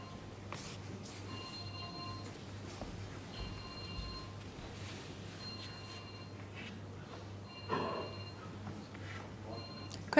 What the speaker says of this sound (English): phone ringing there somewhere in the Crucible